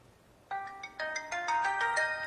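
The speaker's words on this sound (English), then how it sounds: "look at some of the ringtones that come pre-installed on the device" Pre-installed ringtones play on a mobile phone, bright layered melodic tones starting after a brief quiet moment, then sounding steadily and clearly with no talk over them.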